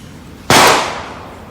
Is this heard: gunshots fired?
yes